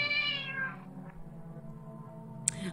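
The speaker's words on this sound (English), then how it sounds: "Hello, kitty cat." A cat in the horror game Mad Father gives a single drawn-out meow at the start that trails off, followed by a quiet game hum and a sharp click near the end.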